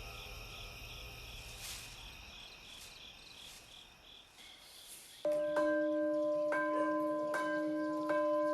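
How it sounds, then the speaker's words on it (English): Morning temple bell pealing in Sisaket Province, Thailand, with a steady chorus of crickets and insects; clear ringing strikes repeat at a slow, even rhythm over the continuous insect drone. "The bell peals every morning in Sisaket Province"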